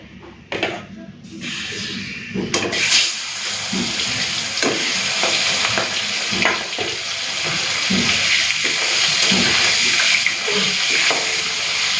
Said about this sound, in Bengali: সরষে তেলটা ভালো করে গরম করে নিয়েছি এখন আমি মাছগুলো ভেজে নেবো